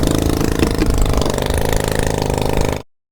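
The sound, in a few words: tractor engine running while spraying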